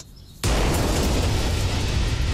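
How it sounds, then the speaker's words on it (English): Explosion sound effect following a fist bump: a sudden loud blast bursts in after a quiet moment and roars on steadily, full and close, with no voices. "Or a fist bump that ends in an actual explosion?"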